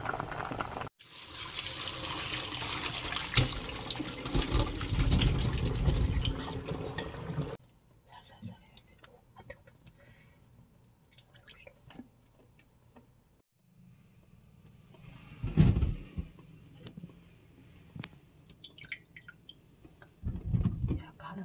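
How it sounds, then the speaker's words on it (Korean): Chestnuts boil in water in a kitchen pot for a sweet chestnut glaze, a loud bubbling rush at first, then quieter drips, clinks and handling sounds. "끓기 시작하면서 30분 더 끓여줍니다"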